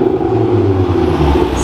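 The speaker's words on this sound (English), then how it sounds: "Black Vanquish. One rev for Halloween" Black Aston Martin Vanquish engine held at a steady, loud, low rumble close by for a short stretch, with no pauses.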